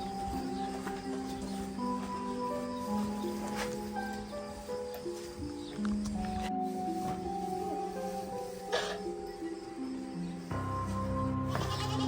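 Goats on a farm in an American village bleat repeatedly and close by, with several wavering, overlapping calls over soft rustling.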